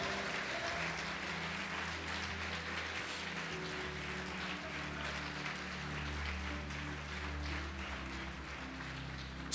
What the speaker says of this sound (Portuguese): Pode aplaudir e glorificar a Deus.